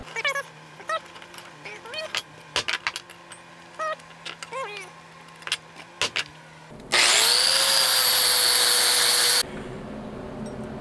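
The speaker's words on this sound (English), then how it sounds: "Now we need to put a hole dead center on these." Power drill boring a centered hole in a steel part for a motorcycle frame jig, a loud steady high whine lasting a few seconds after scattered handling clanks and knocks of the workpiece, up close.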